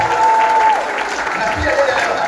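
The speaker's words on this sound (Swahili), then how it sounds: "Tumpigie makofi mazuri." A crowd claps for an area MCA being recognised at a Murang'a gathering. Dense, steady applause fills the full stretch, with a voice speaking over it.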